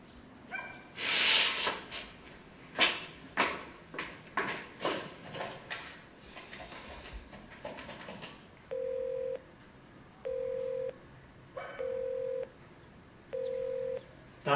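A telephone is being dialed, its keypad sending a steady series of about five evenly spaced tone beeps after a noisy stretch of voices and a dog barking earlier on.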